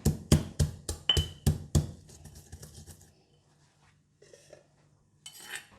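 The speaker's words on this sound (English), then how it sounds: "First, pound the peanut snack until fine." A peanut snack is pounded in a mortar for a spicy Thai peanut sauce, about eight sharp, evenly spaced thuds, then a quieter pause with a few faint scrapes and rustles near the end.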